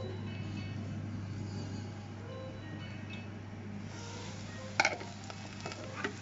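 Onion cooking in a pan for a spicy fish curry gives a steady, close sizzle that runs throughout, with a few sharp utensil clinks near the end.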